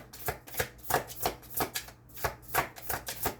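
A deck of tarot cards being shuffled up close, in quick riffling bursts repeated roughly every half second, crisp and alone without talk.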